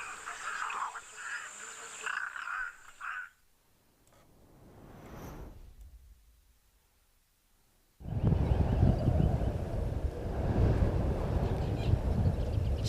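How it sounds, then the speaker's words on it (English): Gusty wind roars and buffets the microphone at Djuma in the African bush, easing briefly in the middle before returning in a loud, sustained rush. "you can hear it's still very, very, very windy"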